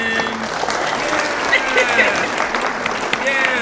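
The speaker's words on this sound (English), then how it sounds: "please put your hands together for my special guest" Applause for a guest in a small studio, a brief spell of clapping from a few people, fairly close, mixed with talking voices throughout.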